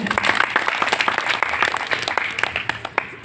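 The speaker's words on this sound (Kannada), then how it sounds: "ಅವರಿಗೆ ಕೂಡ ದೊಡ್ಡ ಚಪ್ಪಾಳೆಯನ್ನು ನಾವು ಕೊಡೋಣ." Audience at an Independence Day celebration event applauding, a burst of scattered hand claps that thins out toward the end, fairly close with no talking over it.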